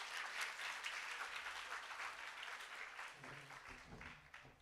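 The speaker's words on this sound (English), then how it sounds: "Let's give our Director General another round of applause." A hall audience claps at a KwaZulu-Natal smart-province launch, dense even applause lasting several seconds at a steady level before thinning, with some low voices mixed in toward the end.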